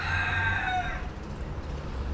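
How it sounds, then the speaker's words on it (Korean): A rooster crows in a park in Cuba, one clear drawn-out call at moderate distance that fades after about a second into quiet outdoor background, with no talking. "저 닭은 지치지도 않나 봐. 그 새벽부터 계속 울어."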